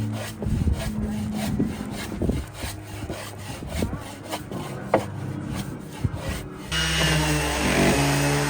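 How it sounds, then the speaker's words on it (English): A hand plane shaves a fitted wooden repair piece down to thickness on a boat hull, giving repeated rasping strokes at close range, with no one talking; near the end a steadier, louder rushing noise takes over. "I could plane it down to its final thickness."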